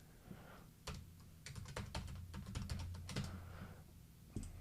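Computer keyboard keys are pressed while setting up VMware ESXi on a Supermicro SuperServer, a close series of quiet clicks, some in quick clusters and others single, with no talking.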